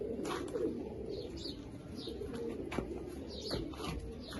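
Desi-breed pigeons coo softly in a loft, low repeated calls drifting at moderate distance over a steady background hum, with a few faint chirps and no voices.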